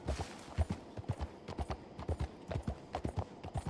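A horse in Red Dead Redemption walks at a steady pace, its hooves clip-clopping in an even, repeated rhythm of crisp hoofbeats, fairly close and alone, with no voices over it.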